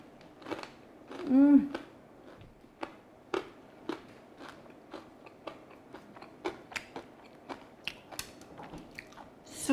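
Someone bites into crunchy Korean fried chicken wings up close, giving a loud crackling bite followed by a run of sharp, crisp chewing crunches in an uneven rhythm.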